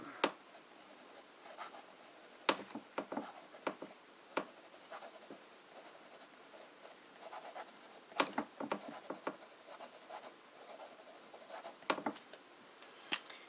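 A fine-nib fountain pen filled with Pelikan Turquoise ink writes on paper, with soft, close scratchy strokes in irregular bursts against a quiet background.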